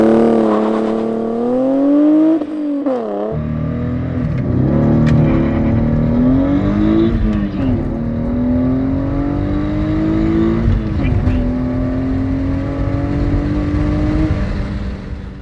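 A car with a catalytic converter delete sits held at about 5,000 rpm on launch control, its engine droning loud and steady. It then launches hard, revving up through several gear changes with a sharp drop at each shift, close and alone.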